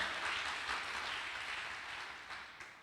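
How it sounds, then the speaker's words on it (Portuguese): A church congregation applauds during a Portuguese-language service, a soft, distant wash of clapping that gradually fades toward the end. "Aplauda Jesus, amado."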